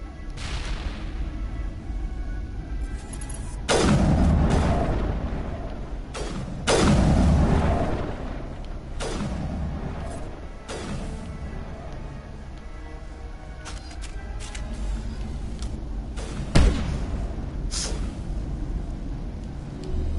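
Heavy booms and gunfire in Mass Effect combat, with several loud explosive blasts spaced across the scene amid scattered shots, one sharp bang standing out late; faint voices appear occasionally.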